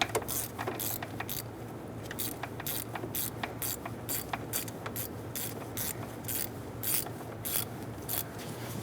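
A hand ratchet tightens the middle knock sensor bolt on a 2010–2013 Kia Soul 2.0L engine, giving rapid, close, crisp clicking in quick bursts that repeat steadily throughout.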